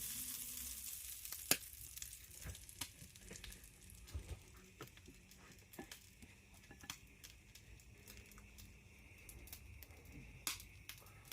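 Sausages and eggs sizzle steadily in a frying pan, a soft continuous fizz broken by scattered pops and crackles, close and fairly quiet, with no talking.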